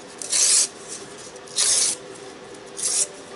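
Paper being torn into long strips for decoupage: three separate rasping rips, each lasting about a third of a second, close and fairly loud with short pauses between.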